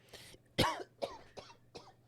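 A series of five coughs, one loud and harsh followed by four shorter, softer ones spaced about every half second, close to the listener with no talking.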